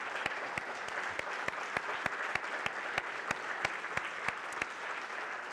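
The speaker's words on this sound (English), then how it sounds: "I'd like one more round of applause because they have put it out there." Sustained audience applause at a candidate forum for an Illinois state legislative district, a steady dense wash of clapping with sharper individual claps standing out, moderately near and continuous throughout.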